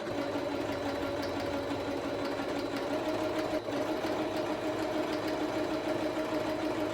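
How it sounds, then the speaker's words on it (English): Sewing machine stitching a leather shift boot for a B5 Passat, running in a steady, continuous mechanical whir at an even pace close to the microphone. "I suppose y'all actually wanna see me do some sewing on here."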